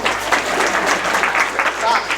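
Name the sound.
audience applause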